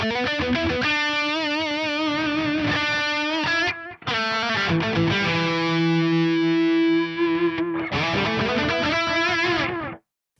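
Distorted electric guitar played through a Fractal amp modeler and Eventide Rose delay pedal, a loud, dense dirty tone with sustained chords and melodic lines, one brief break near the middle, then ringing to a stop.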